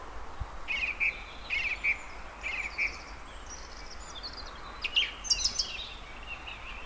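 A song thrush sings from a treetop, short repeated clear phrases, each note doubled, fairly distant over a quiet outdoor background.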